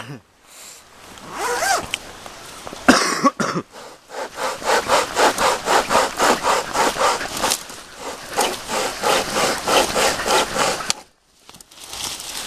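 A hand saw cuts through wood with rapid, rhythmic back-and-forth strokes, loud and close, after a few bumps; a voice speaks briefly at the start.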